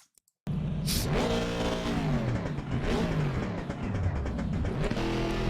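Assetto Corsa Competizione GT4 race car engine revving hard and loud from the start after a brief silence, with a sharp backfire crack early on and shifting pitch sweeps as it accelerates through gears.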